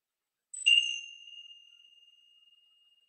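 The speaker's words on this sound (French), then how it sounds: "j'ai apporté une petite clochette qui va débuter le début de cette méditation" A small handbell is struck once to open a meditation, giving a single clear, bright ding that rings on and slowly fades over a few seconds, close and alone in silence.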